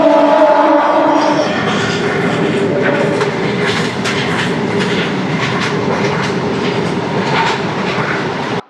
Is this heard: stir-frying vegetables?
no